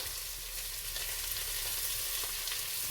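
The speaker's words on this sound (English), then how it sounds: "Okay, let me get to stirring." Potatoes frying in oil for Spanish poor man's potatoes, a soft, steady sizzle heard close but fairly quiet, with faint stirring sounds and no speech.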